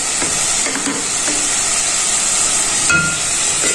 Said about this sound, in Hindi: अब इन सब चीज़ों को फिर 4 से 5 मिनट तक भून लेना है।